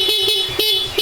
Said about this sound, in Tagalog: Subukan nyo nga mag-busina